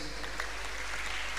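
A church congregation at a miracle service claps together in a dense burst of applause that carries on steadily. Voices can be heard faintly under the clapping.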